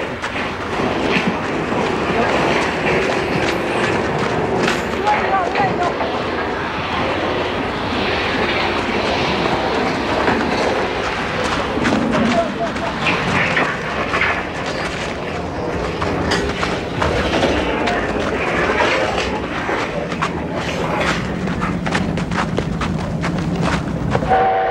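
A Chinese-built Jianshe steam locomotive runs with a steady loud roar and rhythmic rattling clatter of the train, continuous and close, with no talk.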